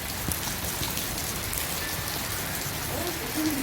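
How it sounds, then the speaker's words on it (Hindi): Heavy rain pours steadily, a dense broadband hiss of drops hitting surfaces, constant and close with no voices. "ये देखें जी बारिश माशाल्लाह मज़ीद तेज़ हो गई"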